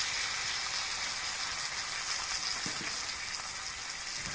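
Ground spice paste with cumin, coriander and turmeric powder frying in a pan for a Bengali koi fish curry, a soft, steady sizzling hiss that continues evenly throughout.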